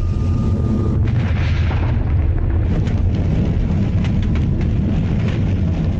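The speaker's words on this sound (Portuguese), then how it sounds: "Uma nuvem de 200 metros de comprimento se forma. 30 segundos depois, ocorre a explosão." A vapor cloud of about 50 tonnes of cyclohexane, some 200 metres long, exploding at a chemical plant: sustained, loud, rumbling roar with dense low-end turbulence and scattered bursts, no voices.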